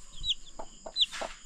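A drowsy, sickly-seeming chicken chick gives several short, close clucks and peeps in a quiet spot, spaced unevenly across a second and a half.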